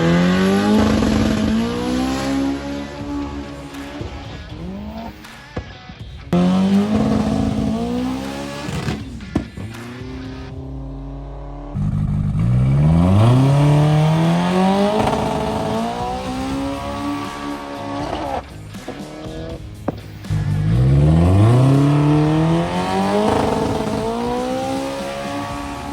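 A turbocharged K-series race car accelerates hard on a track, its engine rising through gears in repeated loud revving pulls with brief lifts between shifts, close and continuous with no talk.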